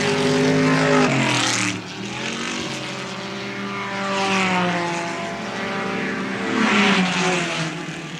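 Touring race cars at Warwick Farm in 1972 roar loudly past, engines rising and falling as several cars sweep by one after another in close, sustained waves of revving, with no talking.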